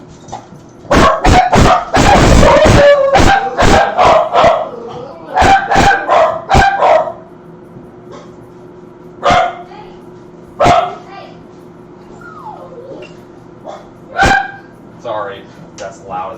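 Several dogs bark in sharp bursts and clusters, close and loud, with quieter single barks spaced out later, while a person talks intermittently in a home kitchen where deep dish pizza dough is being floured and rolled.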